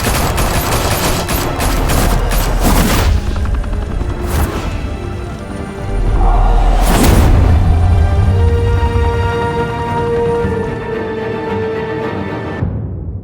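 Sustained automatic gunfire from the Telltale Batman game, dense rapid bursts with sharp reports and crashing impacts over a continuous loud din, swelling midway and then tapering.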